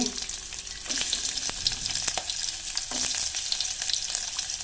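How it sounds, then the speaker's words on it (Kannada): Mustard seeds, cumin and onion sizzle and crackle steadily in hot oil in a pan, a bright close frying hiss with a few stirring knocks and no voices. "ಈಗ ಅರ್ಧ ಸ್ಪೂನ್ ಸಾಸಿವೆ ಹಾಕತ್ತೀನಿ, ಅರ್ಧ ಸ್ಪೂನ್ ಜೀರಿಗೆ ಹಾಕ್ತೇನೆ, ಮತ್ತು ಈರುಳ್ಳಿ ಹಾಕತ್ತೀನಿ,"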